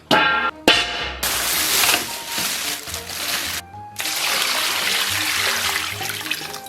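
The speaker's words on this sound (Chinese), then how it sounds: "然后咱们把羊肉给它洗一下先。" Tap water runs and splashes steadily over raw lamb meat in a kitchen sink as it is rinsed before blanching, with brief gaps where the flow stops and restarts, close and fairly loud.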